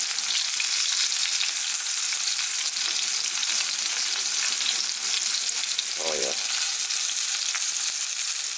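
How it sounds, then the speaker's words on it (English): Steak sears in butter in a hot pan, giving a loud, steady, close sizzle throughout with a brief scrape as the meat is flipped partway through. "I'll flip this one over. Put it on the butter."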